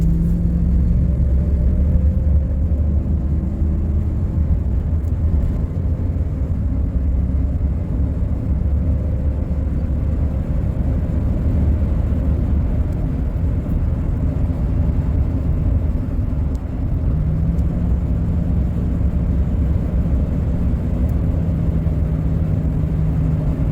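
A 2005 RAM 1500 4x4 pickup with the 5.7L HEMI V8 cruises along, producing a continuous low engine rumble and road drone at a steady level, with a subtle pitch shift partway through and no speech.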